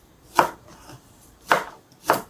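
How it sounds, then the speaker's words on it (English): Three crisp knife chops through carrots onto a cutting board, close and distinct, spaced unevenly with quiet between strikes. "cut the carrots"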